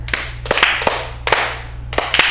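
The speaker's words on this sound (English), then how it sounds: "All right, clap." Several sharp hand claps in an uneven rhythm, close and loud, with brief pauses between bursts over a low steady hum.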